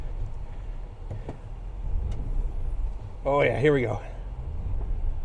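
A Jeep's engine rumbles low and steady as it sinks and spins in deep mud, switched into two-wheel drive, with someone speaking briefly partway through.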